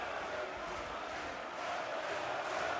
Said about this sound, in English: The crowd are making it clear who they want to win.